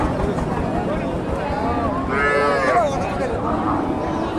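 Cattle low at a busy village livestock market, one clear drawn-out moo rising midway over a steady background of crowd chatter and voices nearby.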